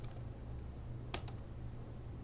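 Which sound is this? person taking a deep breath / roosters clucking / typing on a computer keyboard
typing on a computer keyboard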